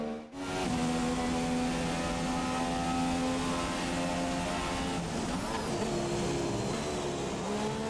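A McLaren race car in a racing game, its engine drone holding steady and loud on track before the pitch shifts and swoops midway, with no talk over it.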